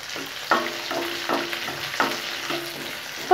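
Ivy gourd, onion and garlic sizzle steadily in a hot pan, with a spoon scraping and stirring in brief, regular strokes over the frying hiss.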